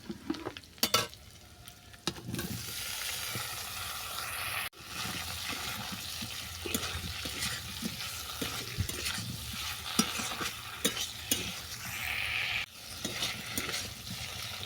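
Vegetables for shiuli-leaf shukto frying in a pan after tempering with asafoetida, a loud continuous sizzle with frequent spatula stirs and scrapes, briefly dipping when more goes in.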